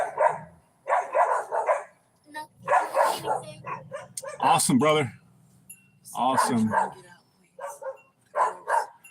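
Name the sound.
dogs barking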